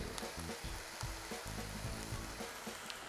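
A big knob of butter sizzles and crackles in a hot pan, a steady frying hiss with small pops and occasional stirring scrapes, heard close with no talking.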